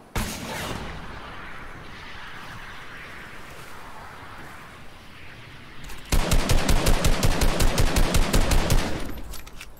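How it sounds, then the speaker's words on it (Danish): Rapid, loud bursts of automatic gunfire and blasts erupt after a stretch of rumbling ambient noise, a Fortnite explosion sequence. "Ja, der kom eksplosionen."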